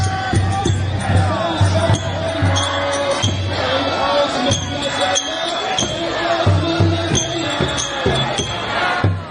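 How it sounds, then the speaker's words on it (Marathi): A large street crowd in Iran celebrates a ceasefire, with loud continuous cheering, chanting and shouting voices mixed with rhythmic thumps, close and dense throughout. "इराणमध्ये नागरिकांनी मोठा जल्लोष केला। हजारोंच्या संख्येने लोक रस्त्यावर उतरले।"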